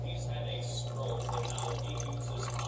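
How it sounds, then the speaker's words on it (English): Raw unfiltered apple cider vinegar poured into a pot of homemade bone broth, a soft continuous liquid trickle over a steady low hum, faint and close. "here I'm adding apple cider vinegar, raw unfiltered with mother, and I'm just going to guess, and I'm just going to pour"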